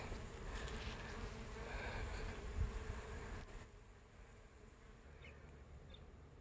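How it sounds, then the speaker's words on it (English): A steady, low buzzing of many bees fills the air outdoors in a winter garden, continuous throughout, easing slightly softer halfway through. "it's so funny how the bees are so loud"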